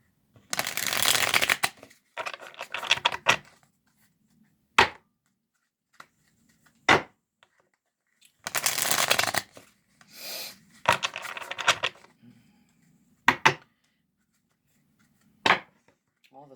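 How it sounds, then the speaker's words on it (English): Cards being shuffled in several separate riffling bursts, crisp and close, with quiet pauses and a few soft taps between them. "Let me shuffle these again."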